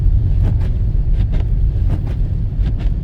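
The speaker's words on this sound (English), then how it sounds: "that's me driving on snow right now" A car drives through a snowstorm with a steady, loud low rumble of tyres and road noise, and windshield wipers give faint, rhythmic swishes every half second or so.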